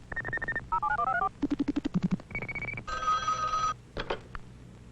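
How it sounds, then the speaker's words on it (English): Telephone on an electronic switching system exchange producing a rapid series of distinct electronic ringing and tone bursts, each a short warbling or trilled pattern, clear and close with brief gaps between them. "the moment the called number rings"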